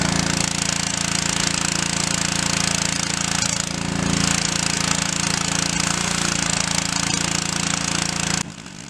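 A bucket boiler for cleaning European mount skulls runs with a loud, steady, rattling mechanical drone up close, holding constant for several seconds before cutting down abruptly near the end, with no talking.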